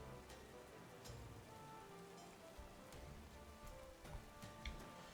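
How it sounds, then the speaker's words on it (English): Steady rain in a Pokémon game falls as a soft, continuous hiss with scattered ticks of drops, faint and unbroken throughout. "And now it's raining."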